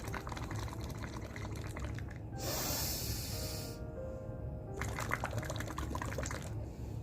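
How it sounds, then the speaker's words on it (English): Someone blows out fully through water to make bubbles as a breathing exercise: two long bursts of bubbling, hissing air with a short pause between, close and fairly loud. "So you have to blow out completely by making bubbles"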